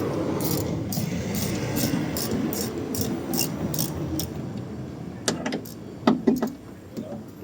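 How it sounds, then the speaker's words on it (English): A 10 mm ratchet works on the door lock of a 2013 VW Beetle, giving a run of quick, close clicking bursts followed by a few sharper metallic knocks and rattles over a low background hum. "10 mm ratchet"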